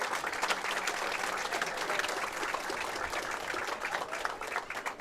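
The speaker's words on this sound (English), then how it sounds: "Round of applause." Audience applause fills a hall at a Wisconsin high school bowling championship after the singles finals, a steady, dense wash of many hands clapping at an even, moderate level for the full five seconds.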